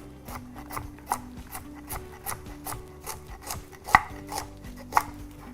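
A knife chops through food on a cutting board in a home kitchen while soup ingredients are prepared, giving a steady run of quick, close, crisp taps with a couple of sharper, louder knocks near the end.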